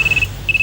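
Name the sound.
telephone ringing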